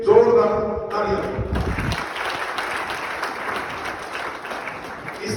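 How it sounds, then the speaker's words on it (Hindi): Loud applause at a BSP political gathering in Haryana for people who just joined the party; clapping and crowd noise start after a short opening and carry on steadily to the end. "सभी के लिए जोरदार तालियां"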